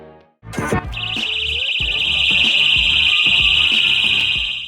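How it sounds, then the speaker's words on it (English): A loud, shrill personal safety alarm blares continuously after a brief click, steady and piercing, with low rumbling noises underneath. "the alarm sound will start blaring"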